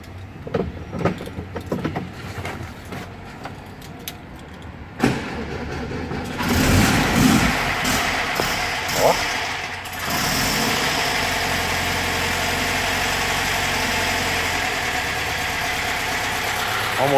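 A Volkswagen Beetle's air-cooled engine cranks and catches, then settles into a steady, fairly loud idle that continues without pause, following some earlier rustling and handling sounds.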